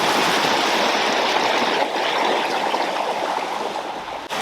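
Steady, loud rush of a river flowing in Greece, continuous and close, with no voices.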